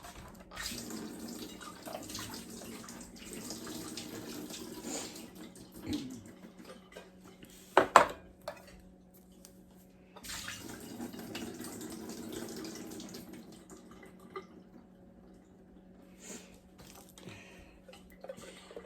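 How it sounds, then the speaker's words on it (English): Water runs into a kitchen sink while food is drained for a corn casserole, two long steady pours with a clatter in between, then quieter handling sounds. "I'm going to go drain these"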